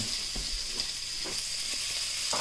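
Onions cooking in a pan for birria tacos sizzle continuously at close range, with occasional soft stirring scrapes breaking through the steady hiss.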